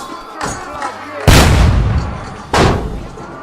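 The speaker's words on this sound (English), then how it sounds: "Watch out! They're shooting at us!" Gunfire in the medieval game Kingdom Come: Deliverance II, with two heavy, booming shots about a second apart followed by a rolling echo, plus a softer earlier report, all loud and close.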